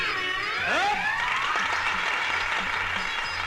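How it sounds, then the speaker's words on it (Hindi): An audience claps after a stage magic trick, a steady patter of many hands, with a sliding whistle-like tone sweeping through near the start. "मगर दोस्तों, इन तालियों से काम नहीं चलेगा"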